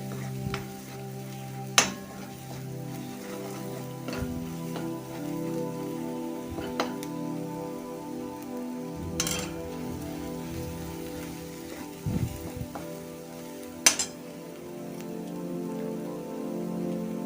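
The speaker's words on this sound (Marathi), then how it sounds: "मध्यम गॅसवर हे व्यवस्थित भाजून घ्यायचं आहे तेल सुटेपर्यंत हे चांगलं भाजून घ्यायचं" Misal masala frying over a medium gas flame until the oil separates, a soft, steady crackling sizzle with occasional sharp pops and spoon taps against the pan.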